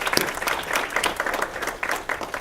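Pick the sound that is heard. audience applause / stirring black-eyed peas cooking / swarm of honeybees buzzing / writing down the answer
audience applause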